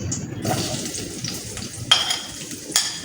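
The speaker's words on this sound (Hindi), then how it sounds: "इसमें प्याज डाल देती हूँ।" Onions sizzling as they drop into hot ghee in a pan, a steady close frying hiss with a few sharper spattering bursts and light stirring, no voices.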